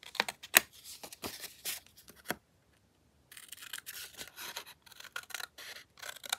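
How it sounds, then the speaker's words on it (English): Scissors trim the sides of a paper card in a run of crisp close snips and rasping cuts, a silent pause in the middle, then a second quick burst of snipping. "I'm just going to trim this on the sides a little bit more."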